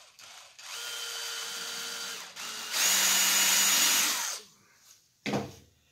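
A power drill bores a hole in wood for a radius lazy Susan form, two loud close whirring runs rising in pitch, followed by a short clunk.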